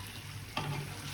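Chicken kosha frying in a pan, a steady faint sizzle with a single sharp clink of a spoon midway, heard close.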